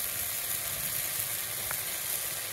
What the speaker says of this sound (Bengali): একটু হালকা পরিমাণ মতো ঝোল দিয়ে দিই